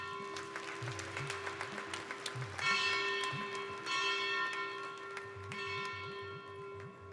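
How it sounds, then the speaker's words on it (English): A ceremonial bell rung by dignitaries at a program launch clangs with sustained ringing tones, struck repeatedly over a murmuring crowd and scattered clapping. "requesting all the dignitaries to kindly ring the bell and mark the beginning of this new era"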